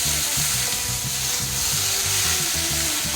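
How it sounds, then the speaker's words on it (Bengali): Okra half-frying in a little oil in a pan over a medium-low flame, a steady close sizzle with rhythmic scraping or stirring knocks repeating throughout. "একটু মিডিয়াম বা লো ফ্লেমে রেখে একটু আধা ফ্রাই আমি করে নেব"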